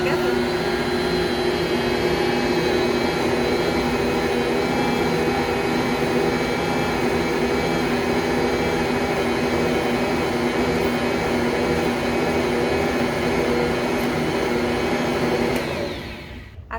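An electric mixer runs steadily, kneading freshly milled whole grain pizza dough with a loud continuous motor whir that stops abruptly near the end.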